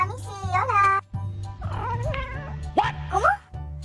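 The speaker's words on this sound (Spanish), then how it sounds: "Recibir un hola de su gata" A cat gives several drawn-out, rising and falling meows, close and loud, alternating with a person talking over a low hum.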